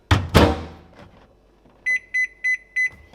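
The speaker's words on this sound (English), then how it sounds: "this will just go in the microwave for about 40 seconds, I reckon" A microwave oven door thuds shut twice, then after a short quiet pause the oven gives four evenly spaced high electronic beeps, close and clear with no talking.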